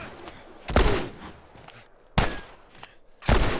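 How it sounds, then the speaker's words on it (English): Gunfire in The Last of Us: three sharp, loud shots ring out a second or so apart, with quieter shuffling between them. "I might have to do actual shooting Right here."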